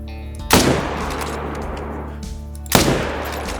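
Two loud 300 Canning Magnum rifle shots, about two seconds apart, fired at a herd of Cape buffalo in the hunting game Call of the Wild, each a sharp blast followed by a long rolling echo.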